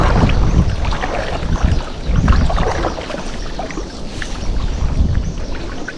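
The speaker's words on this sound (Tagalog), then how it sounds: "Malakas po ang tubig." Strong, muddy floodwater rushes down a swollen river in a steady, loud, broadband roar with no letup, heard close by and alone.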